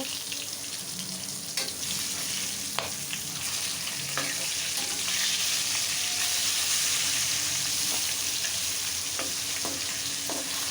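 Steady sizzling of pangas river fish frying in soybean oil in a wok, with scattered clinks and scrapes as the pieces are stirred and turned over, close and continuous.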